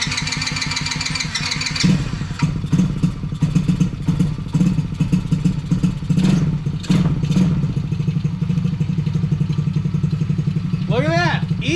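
A TaoTao 110cc kids ATV that had sat for years, now with a new starter solenoid, cranks briefly, then catches and runs with a close, clattery small-engine idle and a few throttle blips.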